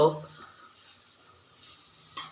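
Grated carrot for halwa fries in a spoonful of ghee, giving a soft, steady sizzle and hiss with a brief stir at the start and another near the end.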